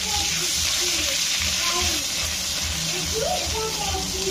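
Ginger paste fries in oil in a wok, a loud, constant sizzle and crackle that runs throughout while a person talks over it.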